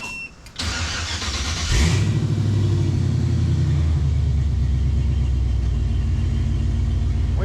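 The Tickle Pickle vehicle's engine cranks briefly, catches and settles into a steady, loud, close rumbling idle that runs uninterrupted to the end.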